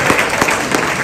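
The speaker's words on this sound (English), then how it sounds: "I think that deserves another round of applause for the great work." Brief burst of audience applause at an equestrian charity awards ceremony, dense clapping from a crowd heard up close for about a second with no talking.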